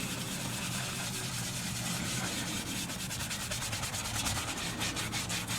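Lathered cleaning brush scrubbing a leather car seat, a steady close scouring rub with continuous friction noise and a faint quickening back-and-forth texture toward the end.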